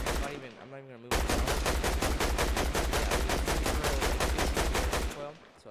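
Assault rifle fire in the Fortnite Battle Royale video game: a sustained automatic burst of rapid, evenly spaced loud shots lasting several seconds, then cutting off.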